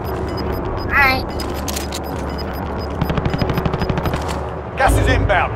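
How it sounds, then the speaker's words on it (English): Rapid machine gun bursts crack out in Call of Duty: Modern Warfare Warzone, short rattling volleys over steady game ambience while a player talks throughout. "I'm gonna switch to my machine gun though."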